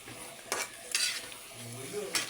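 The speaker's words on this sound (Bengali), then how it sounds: "এখন আমি তরকারিগুলো নেড়ে চেড়ে ভালোভাবে মশলার সাথে কষিয়ে নিচ্ছি।" Vegetables with kaski dried fish and spices are stirred in a hot pan, with close scraping strokes over a soft frying sizzle, three bursts of spatula movement in quick succession.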